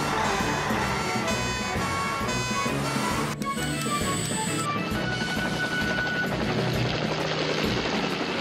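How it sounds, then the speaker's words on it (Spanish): Rescue helicopter from a Fireman Sam cartoon flying out to the cliffs, a steady loud rotor and engine drone running throughout over a busy animated soundtrack with musical tones early on. "Don irá en el helicóptero."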